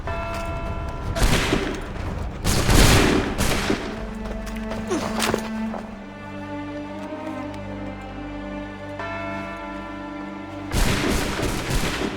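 A volley of gunfire, several bursts of loud, close shots clustered early, a lull with lingering rumble and ringing tones, then another heavy burst near the end.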